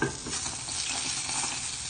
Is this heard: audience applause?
no